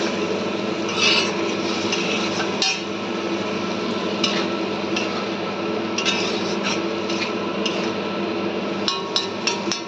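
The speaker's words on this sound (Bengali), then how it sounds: "এখন এটাকে একটু কষিয়ে নিই।" Food is sautéed and stirred in a pan, giving a steady sizzle with repeated scraping and clinking of a spatula against the metal, close up and without talk.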